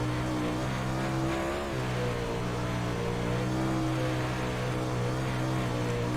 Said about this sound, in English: Car sounds good. He's not bogging it at all.